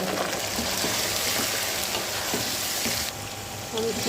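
Chicken fries with onions in oil in a pan, a loud, continuous crackling sizzle that stays dense and even throughout, easing slightly for a moment near the end.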